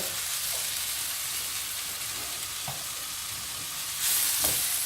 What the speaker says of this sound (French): Pendant que vos oignons continuent à cuire